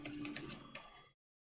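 A Creality CR-10S Pro 3D printer moves its motors, giving a close, warbling, chirping electronic whine like a dial-up modem that runs for about a second and then cuts off.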